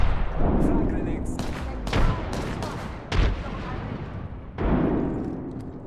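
Close, heavy gunfire and blasts in the battle royale game Apex Legends, with several sharp loud shots and booming bursts over a dense, noisy background.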